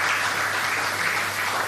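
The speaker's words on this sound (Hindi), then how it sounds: "फिर से जोरदार तालियां सबके लिए।" Enthusiastic audience applause at a live self-healing program, a continuous, even roar of many hands clapping throughout, loud and close with no speech over it.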